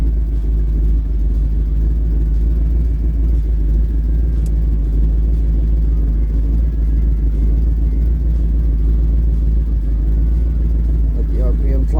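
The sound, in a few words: car engine running after new spark plugs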